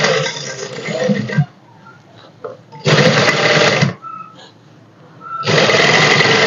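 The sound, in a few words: sewing machine stitching dress sleeve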